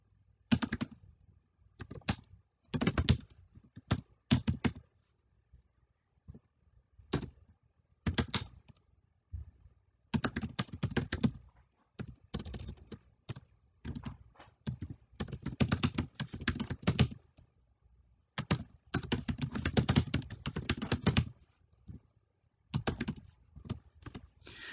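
Fingers type code on a computer keyboard in irregular bursts of rapid clicky keystrokes separated by short pauses, close and clear in a quiet room.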